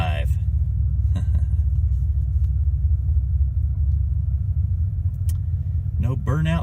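A 2018 Cadillac ATS 2.0 turbo with all-wheel drive rumbles low and steady at a drag strip, a continuous deep engine drone with a brief voice near the end.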